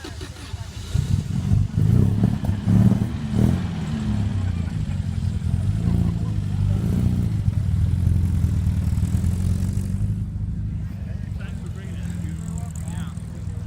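A small 2.4-litre car engine at a British car show starts cold and revs, a loud steady drone rising in bursts for several seconds before easing off, with a rougher idle toward the end.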